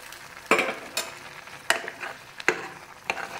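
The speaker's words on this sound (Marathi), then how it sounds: "आता आपण ही फोडणी आपल्या कुकरमध्ये भाजीवर टाकून घेऊया." Hot tempering is poured over boiling gram greens in a pressure cooker and stirred, giving bursts of sizzling with repeated scraping and clinking stirs at a close, moderate level and no talk.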